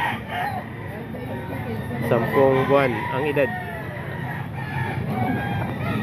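Roosters crow repeatedly at a busy Sunday chicken market in Grotto, with fowl clucking nearby and people talking throughout over steady crowd and traffic noise.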